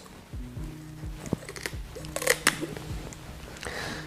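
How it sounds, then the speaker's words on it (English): Kitchen scissors snipping the fins off a whole fish, a handful of quick crisp clicks and cuts at close range, irregularly spaced over a quiet background. "I get right down to the very base of the fin and just snip them off."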